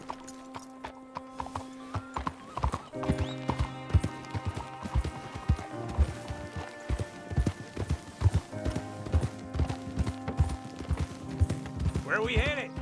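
Horses' hooves clip-clop in steady rhythm on a trail in Red Dead Redemption 2, fairly close and continuous, with a voice talking over them and a brief whinny near the end.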